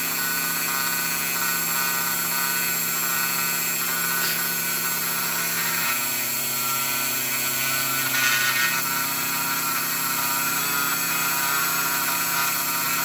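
A homemade mini CNC mill cutting wood, with a steady high whining motor drone and a brief pitch shift in the middle as it runs, close and continuous without talk.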